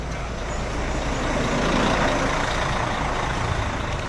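Heavy truck engine idling and rumbling at a multi-car pileup on the Padang–Bukittinggi highway, where a tow truck hauls away crashed cars, including a Kijang; a steady, loud, broadband drone continues throughout with no talk.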